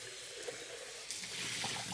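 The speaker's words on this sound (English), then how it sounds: "All I'm going to do is use warm water, rinse down the sides like this" Warm water runs and swirls inside a blender container as its sides are rinsed, a steady close splashing wash that grows fuller partway through.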